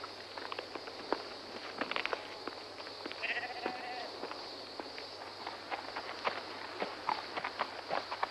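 Sheep bleat in a small flock amid shuffling hooves and footsteps, a few distinct calls standing out over a faint steady hum in an outdoor scene.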